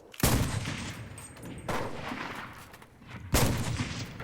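Gunfire in the video game Cuisine Royale: three loud, close shots or short bursts spaced about 1.5 seconds apart, each cracking sharply and then fading into a rumbling tail, with no talking.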